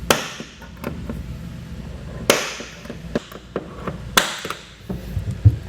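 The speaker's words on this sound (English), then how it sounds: "I like to hit it just a couple of times in that same hole" Sharp metallic hammer strikes on a center punch marking steel ring out, a few heavy hits spaced apart with lighter taps between, close and clear with no talking.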